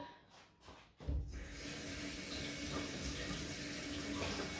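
A bell pepper is rinsed under a running kitchen tap. The water starts abruptly after a few quiet seconds, then streams and splashes steadily and fairly loudly with no talking.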